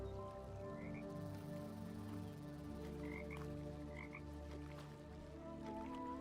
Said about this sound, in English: The frog's just spawning out of nowhere.